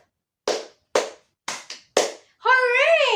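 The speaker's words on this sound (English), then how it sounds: "Give yourself a perfect attendance clap." Four short, sharp claps from children in a classroom, spaced about half a second apart, followed by an excited high-pitched cheer from young voices.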